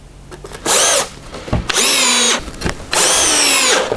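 A power drill drives screws into a plywood bench in three loud, whining bursts of a second or less. Each burst rises in pitch, with short quiet gaps and small knocks between them.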